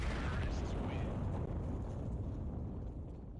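A bomb detonates in a CS:GO match, a loud low rumbling blast that holds and slowly fades over a few seconds.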